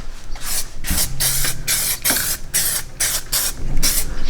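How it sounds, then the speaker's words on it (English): Spray primer is applied inside the cab of an OBS Ford truck with a 7.3 engine during an interior rebuild: about nine loud, close hissing bursts in quick succession, separated by short pauses. "lay down some primer and then do some paint. I'm gonna do a nice light coat"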